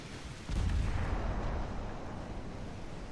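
Naval artillery booming in the warship battle game Ultimate Admiral: Dreadnoughts, a heavy, sustained low rumble of gunfire that swells in suddenly and rolls on loud and steady.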